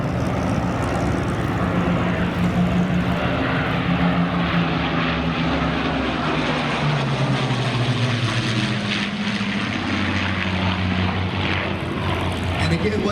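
Two de Havilland Mosquito aircraft fly past at an airshow, a continuous droning propeller-engine roar with slowly shifting pitch, steady and fairly loud throughout; a voice talks faintly underneath.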